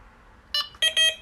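An electronic fishing bite alarm gives three close, sharp high beeps, one short then two longer, while its button is held, clear against a quiet background.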